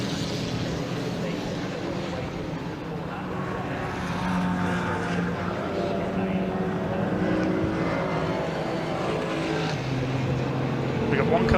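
A race car engine drones steadily beneath the talk of a commentator at Silverstone, its rumble swelling slightly as the car draws nearer, coming into the pits.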